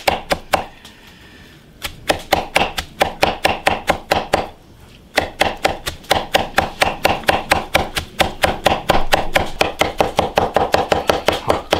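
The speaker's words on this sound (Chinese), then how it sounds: "剁点大蒜、泡椒，" A cleaver chops garlic and pickled chilies on a cutting board in fast, rhythmic strokes, a long run of sharp close knocks with two brief pauses early on.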